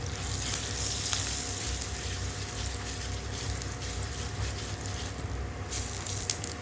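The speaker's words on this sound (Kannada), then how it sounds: "1 ಸ್ಪೂನ್ ಸಾಸಿವೆ, ಅದು ಸಿಡಿದ ನಂತರ 1 ಸ್ಪೂನು ಉದ್ದಿನಬೇಳೆ, ಅರ್ಧ ಟೀ ಸ್ಪೂನು ಇಂಗು, ಸ್ವಲ್ಪ ಕರಿಬೇವು, ಇದಿಷ್ಟು ಹಾಕಿ ಸ್ವಲ್ಪ ಗೋಲ್ಡನ್ ಬ್ರೌನ್ ಬರೋವರೆಗೂ ಹುರಿಯೋಣ" Mustard seeds, urad dal, asafoetida and curry leaves frying in hot oil for a jaggery-sweetened tomato chutney, giving a steady, dense sizzle with faint crackles that runs unbroken and fairly close throughout.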